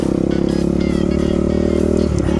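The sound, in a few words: Husqvarna dirt bike engine revving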